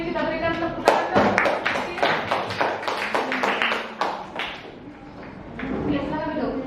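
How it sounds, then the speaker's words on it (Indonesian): A small classroom audience gives a student presentation group a short round of uneven hand claps. The claps are distinct and nearby and fade after a few seconds, with voices talking underneath and afterward. "Kita berikan tepuk tangan."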